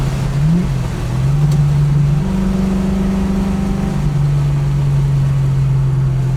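A 1967 Mustang's engine revs hard through a heel-toe downshift, a loud steady mid-range drone that briefly blips up in pitch, then settles and climbs again as the car pulls on, with no talking.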